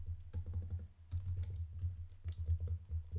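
Text is entered on a computer keyboard in steady, fast bursts of close clicking keystrokes with short pauses between runs, with no talking.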